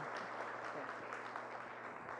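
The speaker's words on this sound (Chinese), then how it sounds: "我们再次的用热烈的掌声来谢谢他" An audience at a lecture gives a round of warm applause, a continuous wash of many hands clapping heard at a distance and fairly quiet, with a steady low hum beneath.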